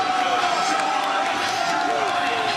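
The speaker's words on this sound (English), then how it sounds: "A great crowd on hand, the 11th straight sellout here at Nippert Stadium." A packed, sold-out Nippert Stadium crowd at a Tulane–Cincinnati college football game keeps up a dense, steady roar, broad and continuous with no break, and a commentator's voice can be heard speaking over it.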